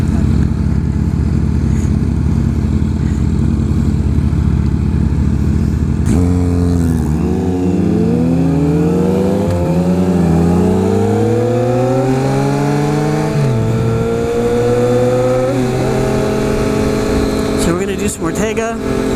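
A Triumph Speed Triple motorcycle rides with a steady engine drone, then a series of rising and falling revs as it shifts through gears, close and loud over constant wind rush.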